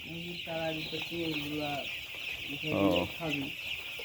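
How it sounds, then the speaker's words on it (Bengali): Chickens on a poultry farm cluck repeatedly while being chased to make them get up and feed, close and fairly loud in several quick bursts, with a louder squawk near the end over a steady background hum. "মুরগি তাড়ায় দিচ্ছেন"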